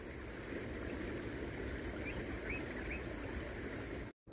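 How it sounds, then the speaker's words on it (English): Estuary water surges in with the tide at St Lucia Estuary, pushing through reeds as a steady, faint continuous rush and wash without speech, cutting out abruptly at the end. "Look at the water flowing in here. You can hear it flow in."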